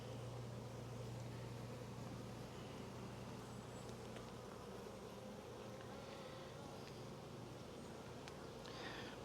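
A swarm of honey bees drones in a dense, steady buzz while swarm colonies are being combined, the hum close and unbroken from start to finish with no voices.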